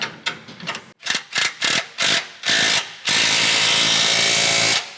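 A wrench ratchets a bolt on heavy-duty side steps for a Toyota Tacoma, with several loud, close bursts of clicking strokes and then a longer sustained ratcheting run.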